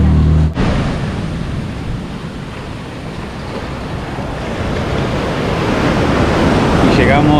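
Caribbean Sea surf at Playa Medina beach in Sucre, Venezuela, a continuous loud wash of breaking waves and rushing water with a gusty, windy edge that swells gradually toward the end.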